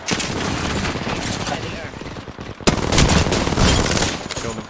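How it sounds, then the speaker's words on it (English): Dense automatic gunfire in the battle royale game Apex Legends, loud continuous bursts with a brief gap before more heavy shooting, while players talk over it. "There's way too many shots, boys."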